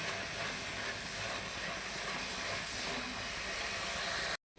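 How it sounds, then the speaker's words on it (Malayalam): Onion, green chilli, ginger and garlic fry in a hot pan, a steady, loud broadband sizzle that hisses without pause until it cuts off abruptly at the end. "സവാള പച്ചമുളക് ഇഞ്ചി വെളുത്തുള്ളിയൊക്കെ നമുക്ക് ഇട്ട് കൊടുക്കാം ആവശ്യത്തിനുള്ള ഉപ്പ് ഇട്ട് കൊടുക്കാം വേർപ്പനയും കൂടെ ഇട്ട് കൊടുക്കാം അങ്ങനെ നമുക്ക് ഇളക്കി നല്ലോണം മൂപ്പിച്ചെടുക്കാം"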